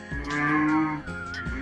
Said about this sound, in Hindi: उनकी गाय गायू ने रंभाना शुरू कर दिया।